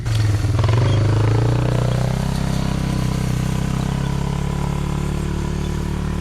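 A four-wheeler ATV engine drones loudly and close while pulling a chain link drag over a food plot, a steady low rumble with a brief higher-pitched rev at the start, accompanied by faint rattling.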